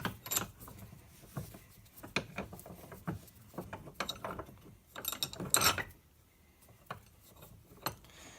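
A small steel anvil with a curved, rounded edge is clamped into a bench vise, making scattered metallic clanks, clicks and ratcheting sounds close by in a quiet room.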